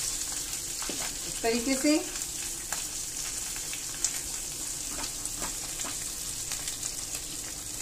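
Onion paste frying in ghee gives a soft steady sizzle with occasional stirring scrapes, while someone speaks briefly early on.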